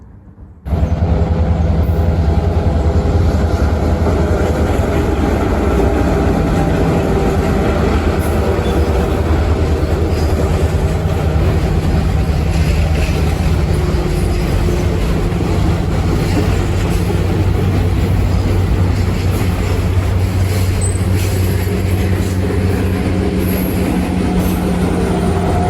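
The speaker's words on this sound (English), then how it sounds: "A train's coming!" A Branson Scenic Railway train rolls past in woodland, a loud, sustained rumble of engine and rail cars that starts abruptly and stays steady throughout, with faint wheel squeal and no talking.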